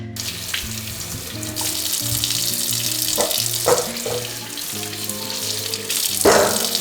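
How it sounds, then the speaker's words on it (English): Fresh apples are washed in vinegar and water at a kitchen sink: running water splashes and trickles steadily, with occasional louder sloshes and clunks of the fruit nearby. "I'm washing them with vinegar and water"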